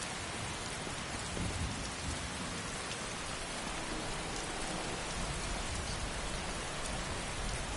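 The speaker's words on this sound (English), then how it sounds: "Man, I love the rain sounds." Steady rain fills an open outdoor scene in the video game Skyrim, a dense, even hiss with faint rumbles of thunder underneath and no voices.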